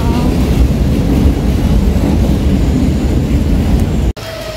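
Continuous loud, rumbling din fills an underground walkway beneath the LRT Central Terminal Station, holding steady with no talk before cutting off sharply near the end into a quieter hum.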